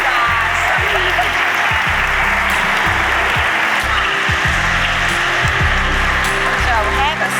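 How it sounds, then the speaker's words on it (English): An audience applauds group members at a church-style gathering on weight loss, a dense, sustained wash of clapping filling the room throughout, with a voice faintly heard over it. "let's clap for them, but also a warm clap for Michelle Wright and Shelhamer."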